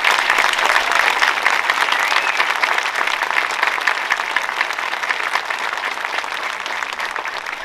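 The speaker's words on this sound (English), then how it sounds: "How about a round of applause for active duty?" Sustained applause from a large audience at an outdoor World War II memorial dedication ceremony, dense steady clapping that fades slightly toward the end, with no speech over it.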